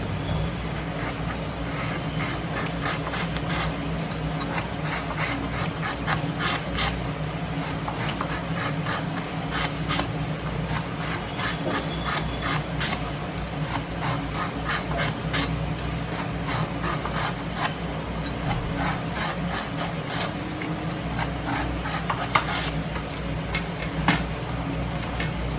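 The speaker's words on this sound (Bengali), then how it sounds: "এবার সবার প্রথম আমি পটলগুলো কেটে নিচ্ছি" Pointed gourds (potol) being cut and peeled with a knife in a home kitchen, a steady run of close, dry scraping and rasping strokes that continues evenly throughout with no talk.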